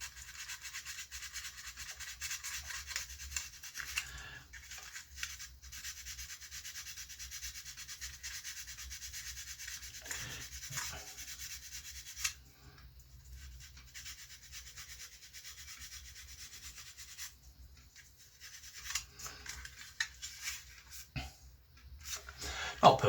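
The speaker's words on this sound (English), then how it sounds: "One thing I hate about aircraft is this filling and rubbing" Filler on a plastic model aircraft is rubbed down by hand, giving a faint, continuous scratchy rubbing with short pauses between strokes, close by and without talk.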